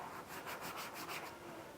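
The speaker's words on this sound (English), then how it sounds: "if you scratch it, you can put scratches in it." Black oil-tan leather is scratched, making a faint, close, dry rubbing rasp in a few quick strokes lasting under two seconds.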